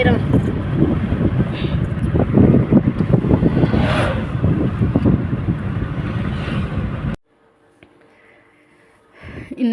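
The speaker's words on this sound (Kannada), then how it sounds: "ಆ ಥರ ಗಾಳಿ ಜಾಸ್ತಿ" Strong wind roars and buffets the microphone for about seven seconds, then cuts out abruptly before gusting back in at the very end.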